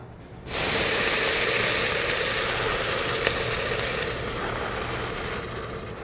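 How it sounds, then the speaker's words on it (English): Stock is poured into toasting rice in a pot for rice pilaf and bursts into a loud hissing sizzle that slowly fades, close up with no talk. "All right, it sizzled a little bit"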